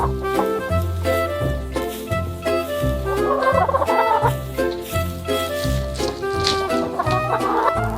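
Farm hens cluck and chatter continuously while rhythmic music plays underneath, the birds' calls blending with the steady beat throughout.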